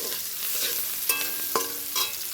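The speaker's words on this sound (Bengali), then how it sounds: "এবার পেঁয়াজ, রসুন, লঙ্কা এগুলো ভেজে নেবো লাল লাল করে" Onion, garlic and chili fry in a pan with a constant soft hiss and crackle, broken by a few sharp scrapes of stirring; no voices.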